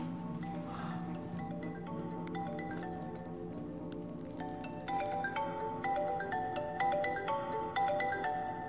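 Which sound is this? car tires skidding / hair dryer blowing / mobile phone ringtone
mobile phone ringtone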